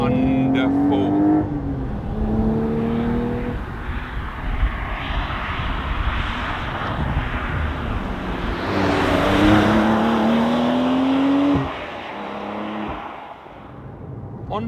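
A 2024 Porsche 992 Carrera T sports car accelerates hard through its long gearing, the flat-six rising in pitch across several gear changes, loud and close throughout before easing off near the end.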